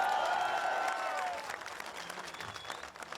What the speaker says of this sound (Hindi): इन लोगों के लिए ताली।